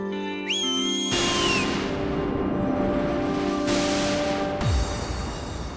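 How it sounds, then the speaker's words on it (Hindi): A whistle blown in a children's fantasy TV episode gives a sharp, sliding shrill tone. Long piercing blasts and a loud rushing noise follow, ending in a falling swoop. "माफी मांगने के लिए सीटी बजाई थी"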